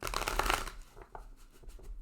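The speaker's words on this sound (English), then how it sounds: "We'll shuffle the cards. I'm sure this will sound terrible because the microphone is right here." Tarot cards are riffled very close to the microphone, producing a loud, dense burst of papery flutter that fades into softer, scattered shuffling and slides.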